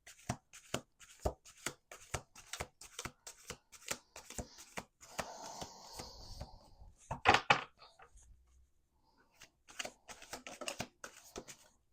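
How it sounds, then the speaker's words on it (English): A deck of playing cards is shuffled up close, with rapid rhythmic riffles and snaps, a brief pause, then another burst of riffling, mostly quiet with no talking. "I'll do one more shuffle after this."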